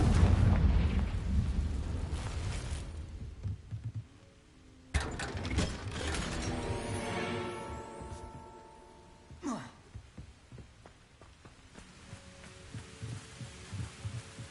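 A Confringo fire spell in Hogwarts Legacy erupts into a deep booming blast, followed by a rumbling, ringing tail and a second sharp burst a few seconds later, loud and close.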